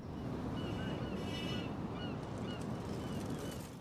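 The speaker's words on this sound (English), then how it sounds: "Well, I like that swarm of birds." Flock of birds honking in Life Is Strange, a steady layered chorus of calls over wind-like background noise, continuous and fairly distant with no talking.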